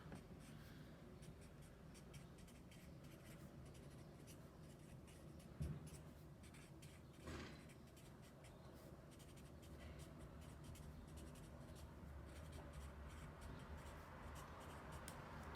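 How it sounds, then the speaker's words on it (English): Pen or pencil writing notes by hand on paper, a faint steady scratching close by with a couple of small bumps, quiet throughout with no talking. "So I'm going to just write that down."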